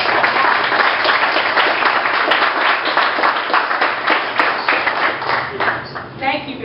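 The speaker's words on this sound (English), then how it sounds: "please give a welcome applause" A welcoming round of applause from an audience after an interview, dense, lively clapping sustained for several seconds before tapering off near the end.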